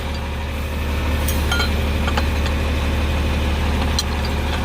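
A tractor engine idles on a farm with a constant heavy low hum, close and loud. A few faint clicks and knocks sound over it, and no one speaks.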